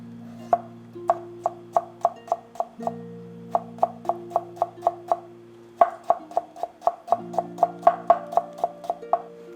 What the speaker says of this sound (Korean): 당근채가 굴러다니면 별로거든요. 그래가지고 좀 얇게 썰어주세요.